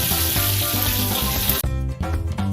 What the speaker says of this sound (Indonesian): Nah, ini ayam gorengnya udah matang ya, siap untuk kita angkat.